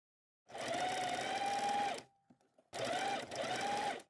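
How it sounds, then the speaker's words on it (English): Sewing machine running a straight stitch along a fabric edge, a close, even mechanical whir in two bursts with a short pause between them. "We set our machine to straight stitch, and we stitch along the edge"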